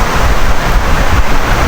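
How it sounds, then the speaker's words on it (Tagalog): Steady, loud rushing wind buffeting the microphone, a continuous broadband roar with no pauses. "lakas ng hangin"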